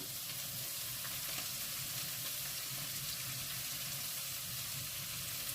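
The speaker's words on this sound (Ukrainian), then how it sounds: "як оце воно смажиться, капусточка із цибулею, з морквою, із перчиком" Steady, dense sizzling of cabbage frying with onion, carrot and pepper in a pan, a continuous crackling hiss with no talking.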